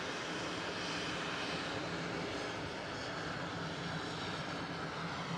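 A Pilatus PC-12 turboprop's engine drones at Edinburgh Airport, a steady, loud, broadband roar held close and unbroken for the whole stretch.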